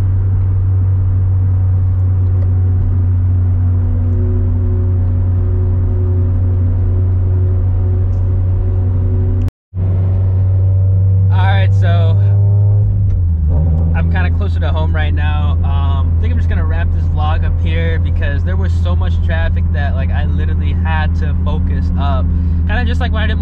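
Turbocharged Scion FR-S with a new turbo kit, ACT clutch and lightweight flywheel, heard from inside while driving: a loud, steady engine drone and rumble with a brief dropout, then a shifting engine note as speech joins over it.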